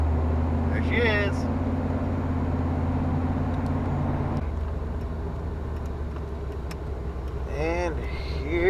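A 1994 Dodge Dakota with a new Borla muffler drones at a steady low idle close by, its exhaust note dropping slightly midway, with a few brief chirps over it.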